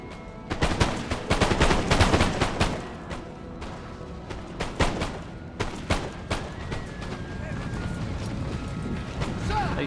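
A musket volley from line infantry in the Napoleon Total War video game crackles out as a dense ragged fusillade of many loud shots, then thins into scattered distant firing over wind and battlefield noise.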